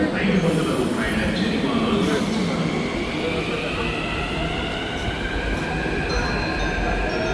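A metro train rumbles steadily on the rails, heard from inside a carriage, with a continuous loud roar and faint high squealing tones throughout.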